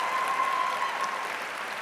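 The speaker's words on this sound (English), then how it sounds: "let's give her our thanks and round of applause" A large crowd applauding at a college commencement ceremony, a continuous wash of distant, even clapping with no distinct individual claps.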